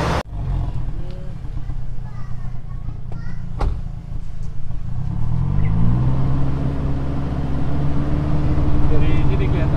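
A car engine revs hard and holds high, clearing residue from the exhaust after a Black Horror tuning and blackcore, catalyst and additive fitting; a deep, steady roar builds louder over a low rumble, with a brief voice early on.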